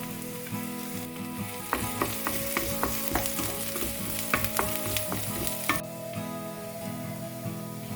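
Chopped ginger and garlic fry for restaurant-style chilli chicken, a bright sizzle broken by repeated scraping stirs of a spatula for several seconds before easing off.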